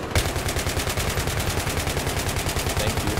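Sustained automatic gunfire from a Battlefield 3 weapon on the Metro map, a loud, steady rapid stream of shots rattling without pause, close up and with no talk over it.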